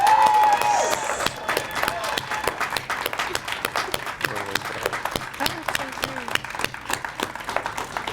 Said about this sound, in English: how about a round of applause for all of you who did this today?